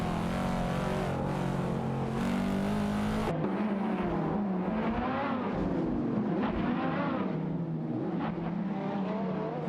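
Race cars in an AI racing video game battling mid-pack, with layered engine whines rising and falling as several cars pass and overtake one another.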